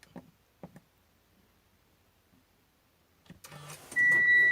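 Mitsubishi Xpander started by push button: a few faint clicks from brake and button, then the engine cranks and settles into a steady close idle, with a chime tone over it.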